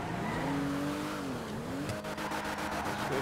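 A Benefactor Vorschlaghammer sports car drives in GTA V. Its engine hums steadily, dips, then surges with a higher note and a quick run of rhythmic pops and crackles, with light tire noise throughout.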